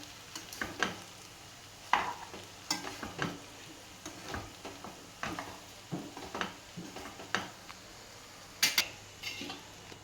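Tomato rice stirred in a pan, quiet irregular scraping and tapping of a spoon against the metal over a faint sizzle, close and fairly soft.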